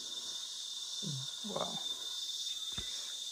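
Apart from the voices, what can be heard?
cicadas singing in the countryside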